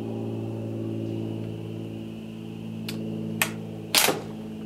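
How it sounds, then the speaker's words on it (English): A cartridge is worked into the chamber of an M1886 Austrian Mannlicher rifle at a range, giving a few sharp metallic clicks and clacks over a steady low background hum. "these do not wish to chamber in the gun"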